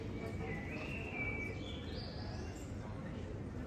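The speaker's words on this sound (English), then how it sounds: "I love that there's a very loud bird somewhere." A bird calls in the evening in Paris, a thin rising whistle that sweeps upward over a steady broadband city hum, moderately distant and fairly faint against the constant background.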